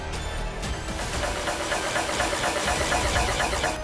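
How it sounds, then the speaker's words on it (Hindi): A motorcycle engine fires up and settles into a fast, rattling, knocking idle, loud and close. "बाइक ने एक जोरदार आवाज के साथ स्टार्ट लिया।"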